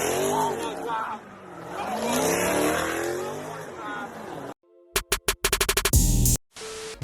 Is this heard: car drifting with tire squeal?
yes